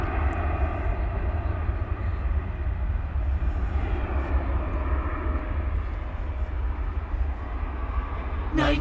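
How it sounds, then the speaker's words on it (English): A 26-year-old UPS Boeing 767-300ER, flight 793, at DFW airport at night rumbles in a continuous low jet roar with faint tonal whine, steady and fairly close. "So there you have a 26-year-old 767-300 ER."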